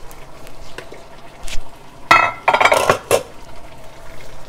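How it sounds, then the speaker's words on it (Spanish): Chicken goes back into a pan of tallarín saltado with a few clanks and scrapes of metal utensils against cookware, a short cluster of clinks over a quiet kitchen background, with no talking. "Entonces aquí voy a poner, ingresar el pollo de nuevo."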